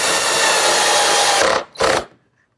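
A power drill drives a screw into a walnut table rail in one loud, steady whir of about a second and a half, then gives a brief second burst before stopping.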